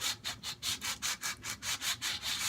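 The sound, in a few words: sanding guitar frets in a circular motion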